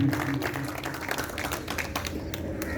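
An audience at a mata ki chauki devotional gathering claps to welcome JLC members, a dense patter of many hands that is loud at first and then eases to a steady, moderate level.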